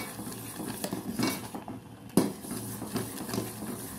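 A utensil stirs spicy sweet tomato sauce in a cooking pot, with soft scraping and a few clinks against the metal, close and moderately quiet, including one sharper knock midway.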